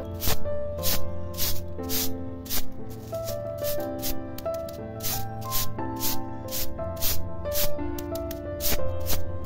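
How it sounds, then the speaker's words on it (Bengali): A broom sweeps fallen leaves in front of a kitchen in quick, rhythmic scratchy strokes, repeated steadily close by, with melodic music playing underneath. "চলো আগে চটপট করে ঝাঁটটা দিয়ে নিই"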